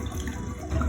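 Bathwater drains from a tub during a toddler's bath, a continuous low gurgling and trickling wash of water, fairly quiet and with no voices.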